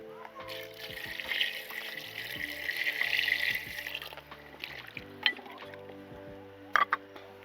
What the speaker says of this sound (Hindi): अब मिक्स करने के बाद इसमें थोड़ा सा हम डालेंगे पानी और गोश्त को गलने तक पकाएंगे।